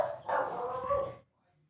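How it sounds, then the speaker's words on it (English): A dog barks in a short burst of several yaps close by, tailing off into near silence, with some speech-like sound mixed in. "he's been barking up a storm at me"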